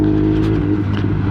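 A Yamaha R6 sport motorcycle engine runs close by with a steady, loud idle rumble and a faint rise in revs.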